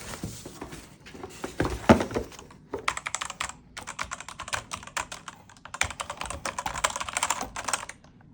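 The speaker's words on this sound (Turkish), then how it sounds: "mekanik klavyemiz" Brisk typing on a Monster Pusat K3 Pro mechanical keyboard with red switches, close up, in dense bursts of clattering keystrokes with short pauses between them.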